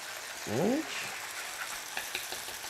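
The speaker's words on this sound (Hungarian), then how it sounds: "a pálca segítségével egy kis rántottát kell eszközölni. Az a lényeg, hogy gyorsan elpiruljon." Scrambled egg frying in a single pan for a Thai turkey dish, with a soft continuous sizzle, a brief rising scrape near the start and a few light clicks of a stirring stick against the pan.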